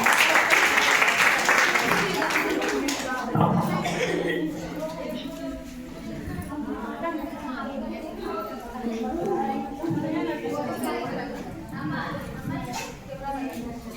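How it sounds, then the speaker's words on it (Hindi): Applause from an audience welcoming schoolgirls about to sing a child-marriage folk song at a Kasturba Gandhi school anniversary celebration, loud and dense at first, then thinning into scattered clapping with crowd chatter mixed in. "तालियों के साथ इनका स्वागत किया जाए।"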